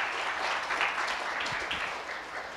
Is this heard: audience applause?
yes